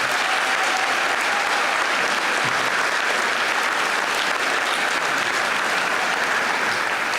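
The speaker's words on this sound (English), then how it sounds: "Could we have one more round of applause for these six?" A high school gym audience at a college signing day applauds six student athletes, a dense, even roar of many hands clapping continuously and loudly throughout, with no break.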